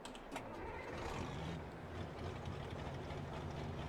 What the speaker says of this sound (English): It sounds like an undersized engine in this bad boy